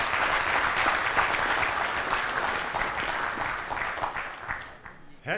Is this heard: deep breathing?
no